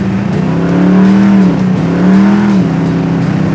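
A 1971 Chevelle SS engine pulls hard at speed from inside the car, its loud steady drone rising through two surging acceleration sweeps with a brief dip between them.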